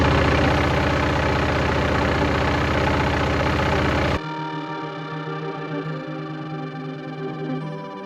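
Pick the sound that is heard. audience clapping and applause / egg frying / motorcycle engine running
motorcycle engine running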